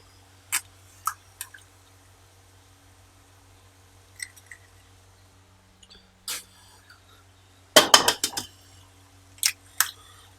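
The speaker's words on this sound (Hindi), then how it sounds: "इसमें आपने 2 एग्स डाल के इसको अच्छी तरीके से मिक्स कर लेना है" A spoon clinks and scrapes in a cooking pot as two eggs are mixed in, sounding as scattered close taps with a busier flurry of clatter toward the end over a low steady hum.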